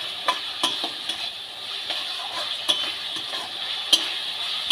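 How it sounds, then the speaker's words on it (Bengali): Chicken with salt is stirred in a frying pan under a steady close sizzle, with soft scraping strokes and light taps of the spatula recurring every second or so. "খুব ভালো করে সব মিশিয়ে নেব।"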